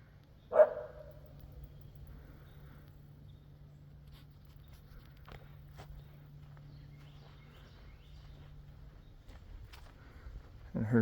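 At a Havana, Florida house during a roof blow-off job, a dog gives one sharp bark early on, then only a low steady hum and faint scattered ticks remain.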